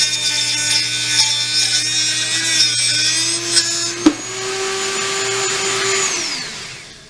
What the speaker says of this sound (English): So we're going to cut it off